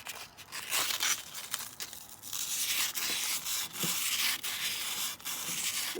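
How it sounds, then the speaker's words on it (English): Wet-and-dry sandpaper, lubricated, rubbing over a jet ski engine case during port work, a steady close scratchy abrasion with repeated strokes and brief pauses, no talking. "lube it up some of the wet and dry sandpaper."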